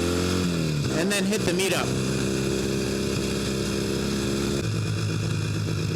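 A Norton motorcycle rumbles steadily while being ridden through Sanford, Florida, its engine drone continuous and loud, with a short burst of louder revving partway through and someone talking over it.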